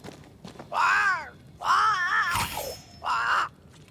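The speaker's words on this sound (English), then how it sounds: "It's Ceridian, by way of the invisible, speaking through the crow." A crow in a video game caws three times in long, hoarse, drawn-out calls, loud and close, with a brief sharp crack between the second and third calls.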